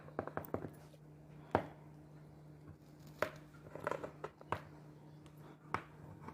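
Holes are cut one at a time into butter bread dough, giving faint, sharp taps and soft presses at uneven intervals against quiet kitchen background, with no talking.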